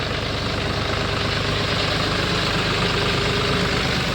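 A John Deere tractor engine idling steadily up close, a constant low rumble with a rough, knocking edge and no voices.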